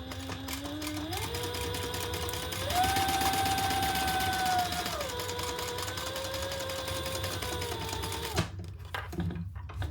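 A sewing machine top stitching a bag runs continuously for several seconds, its motor whine rising and falling in pitch as it speeds up and slows, close and steady, then stops near the end with a few small handling clicks.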